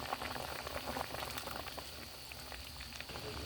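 Dried prawn and raw mango curry with ground coconut paste simmering in a pot, a close, soft, steady bubbling and popping that continues without pause.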